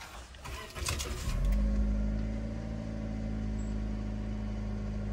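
A used car at a car market starts by Japanese remote start: a brief cranking clatter, then the engine catches and settles into a steady low idle hum that carries on to the end.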